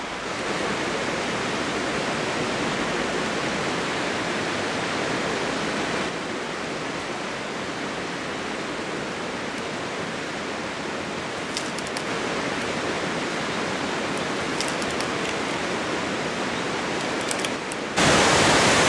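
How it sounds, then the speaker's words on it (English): Fast-flowing water of the Torrens River rushes in a steady, loud, broadband roar that holds for the whole stretch, close by and unbroken, with a slight drop in level partway through and no voices over it. "There's some fast flowing water right behind me right now"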